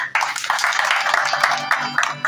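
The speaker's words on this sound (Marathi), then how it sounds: "एकदा जोरदार टाळ्या मारा." Audience at a bhajan performance clapping loudly and fast, a dense continuous burst of many hands filling the whole moment, with a few sharper individual claps standing out.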